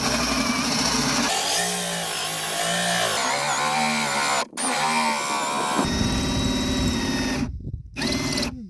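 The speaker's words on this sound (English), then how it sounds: "install the hole saw to your drill for whatever hole you're going to drill" Cordless drill with a hole saw boring through a door for a doorknob, a loud steady whine that rises and falls as the motor loads, with brief stops and restarts.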